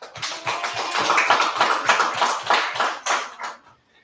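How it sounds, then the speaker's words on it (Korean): A church congregation claps together during a Sunday worship service, a dense run of hand claps with a few distinct beats near the start, steady and fairly loud before fading out near the end. "네, 우리 하나님께 영광의 박수 돌리시겠습니다."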